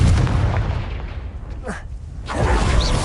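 Fiery blast spells cast in Hogwarts Legacy, a wizarding video game: loud booming bursts with whooshing sweeps, one sharp burst near the middle and a heavier blast toward the end, over a dense rumbling background.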